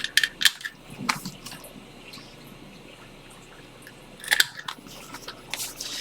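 Scissors snipping the small corners of paper at close range, a few crisp cuts at the start and again near the end, with a quieter stretch between them.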